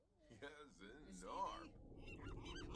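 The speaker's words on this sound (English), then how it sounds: "He's like, what's up with all the seagulls?" Seagulls squawk in The Sims 4, a run of honking, wavering bird calls of medium loudness that continue over steady background game sound.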